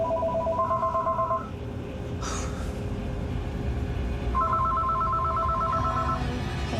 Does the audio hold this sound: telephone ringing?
yes